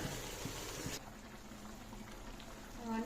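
Low, steady bubbling and hissing of water boiling in a pot for basmati rice, faint and continuous, with a softer background after the first second.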